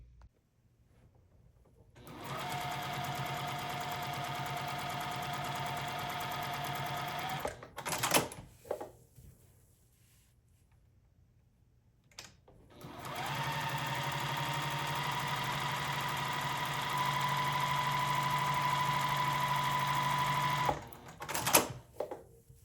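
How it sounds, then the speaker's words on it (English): A domestic sewing machine doing free-motion quilting on an oven mitt or pot holder runs steadily in two long bursts, stopping briefly between them with small handling clicks. "Then we're going to take it to our sewing machine and do some free motion quilting."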